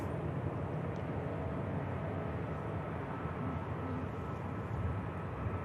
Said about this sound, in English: That Ryanair has just touched down